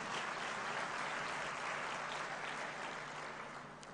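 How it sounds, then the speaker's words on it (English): An audience at a climate finance plenary session gives a round of applause, dense and sustained clapping that stays loud before tapering slightly at the end. "Can we give Leah another round of applause,"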